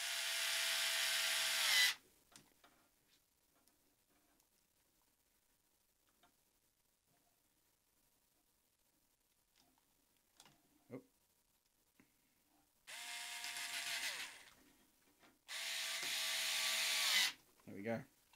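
Small electric screwdriver driving shock tower screws on a Tamiya TT02 RC car, a loud close whirring burst at the start and two more near the end, with quiet handling clicks between.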